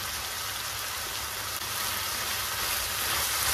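Pie filling seasoned with pepper and sweet red paprika stewing in a pan, giving a steady, loud sizzle and bubbling hiss that runs unbroken from start to finish.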